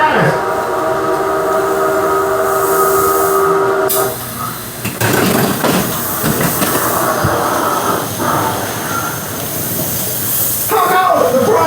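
An approaching-train effect on a theme park earthquake ride in Tennessee: a steady loud rumble with tonal horn-like hum, then a burst of hissing, crashing noise as the effect intensifies, with an announcer voice over it.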